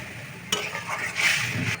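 Spices and water tipped into a hot pan for a Bengali sol fish dhoka dish, a sudden sharp hiss and sizzle bursting up, then a rising spattering fizz, close and brief with no talk.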